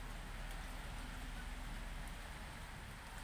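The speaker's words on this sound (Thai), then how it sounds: "ฝนตกนะครับ อากาศเย็นนะครับ" Rain falling outdoors in cool weather, a steady soft hiss of drops on surfaces with a low rumble underneath, even and continuous with no voices.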